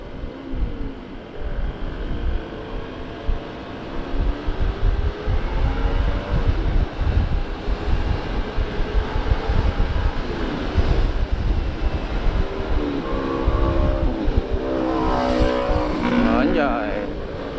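Yamaha Mio motorcycle with an HTS setup, riding on the road: a steady engine drone with rising and falling pitch and heavy wind rush, continuous and close throughout.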